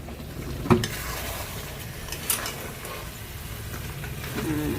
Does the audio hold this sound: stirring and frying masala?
yes